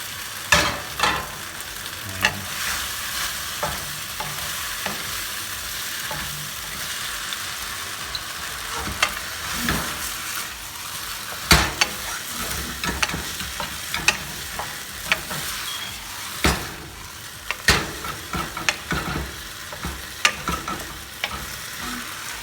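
Cauliflower pieces stirred into a thickened Manchurian sauce in a hot pan, with steady sizzling frying throughout and repeated sharp scraping clicks of a spoon against the pan, close and fairly loud, no talking.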